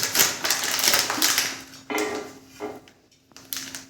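A spoon drops henna powder into an iron kadai, making close, sharp metallic taps and scrapes in uneven bursts separated by brief quiet gaps.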